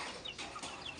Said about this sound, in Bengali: মুরগি কিলবিল করে